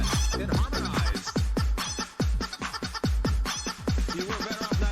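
Harmonized chicken clucking from the SNES game Lufia & The Fortress of Doom, a rapid chiptune-style run of stacked, pitched cluck notes repeating in a steady rhythm, loud and continuous without speech.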